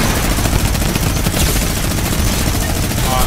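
Gunfire in the video game Fortnite, a continuous dense rattle of rapid shots filling the whole moment, loud and close with little pause.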